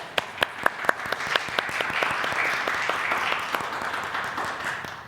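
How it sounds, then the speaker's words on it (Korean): Church congregation clapping to welcome a family during a live-streamed worship service, opening with a few sharp, distinct claps before swelling into steady, moderately loud applause. "우리 박수로 환영했으면 좋겠습니다"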